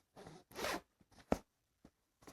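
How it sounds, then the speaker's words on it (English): Main zipper on a K&F Concept camera backpack being pulled in several short bursts, a long rasping run followed by quicker brief tugs, close up and clear with no talking. "you ended up closing the main zipper into the compartment"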